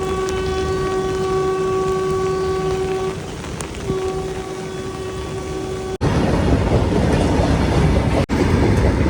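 A freight train of petrol tanker wagons rolls past with a steady rumble and a sustained tonal hum, then louder rushing clatter as wagons go by, punctuated by sharp clicks.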